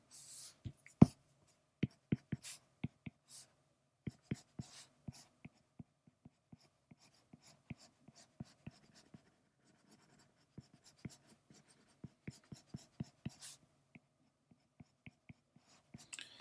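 A pencil draws on paper in short scratchy strokes and taps, irregular and close, with brief quiet pauses between bursts of sketching for a Viking character illustration.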